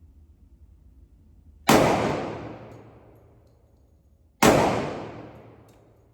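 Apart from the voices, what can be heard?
Glock 30S pistol shots hitting range targets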